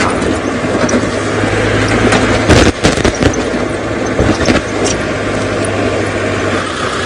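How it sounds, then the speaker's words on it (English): A safari vehicle drives steadily with a constant rumble of engine and wind, and a brief cluster of knocks and bumps in the middle. "let's jump back onto Scott's car and find out"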